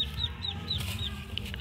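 Chickens and ducks cluck and chatter at an evening feeding on a rubber-plantation farm, where rice bran mixed with feed is handed out; several birds call in short repeated bursts, fairly close, over a steady background.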